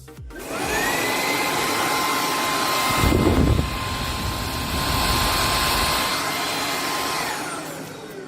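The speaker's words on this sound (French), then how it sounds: "on a un bruit de soufflerie très présent, avec effectivement pas mal de vent qui est éjecté à l'arrière de l'aspirateur" A BISSELL Icon 21V cordless bagless stick vacuum running at maximum power gives a loud, steady blowing whine with strong exhaust air, holding constant for about eight seconds with a brief rougher swell near the middle.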